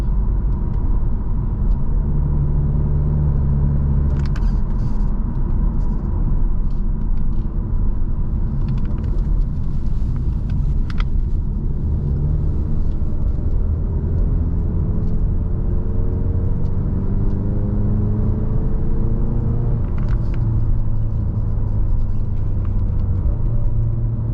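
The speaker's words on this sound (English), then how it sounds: "I don't know if you guys can hear that drone or not." A steady low engine drone with road rumble fills the cabin of a 2023 Ford Mustang EcoBoost while driving, constant and fairly loud throughout.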